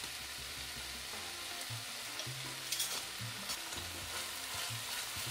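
Sweet bean sauce sizzles in a little oil in a wok, a soft steady frying hiss broken by scraping stir strokes and faint clatter, fairly quiet throughout with no talking.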